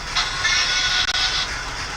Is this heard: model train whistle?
yes